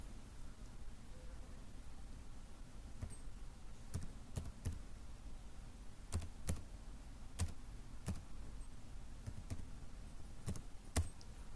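Aadhaar card number typed on a computer keyboard, sparse faint key taps spread across the stretch over low background hiss.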